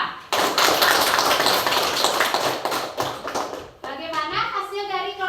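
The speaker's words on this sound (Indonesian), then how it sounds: "kasih tepuk tangan buat kelompok 2" Classroom children clapping for a group after their presentation, a burst of dense, lively hand claps lasting several seconds, then fading as a voice and classroom chatter take over.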